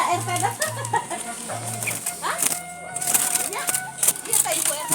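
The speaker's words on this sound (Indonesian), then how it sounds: "Ada burung." In a Sundanese village among tea plantations, a chicken clucks and calls in short bursts nearby, mixed with people talking and other background sounds.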